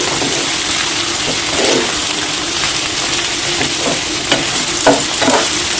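Ingredients for a spinach curry fry in a pan, giving a steady broad sizzle with occasional scraping stirs and clinks, close and fairly loud with no talking.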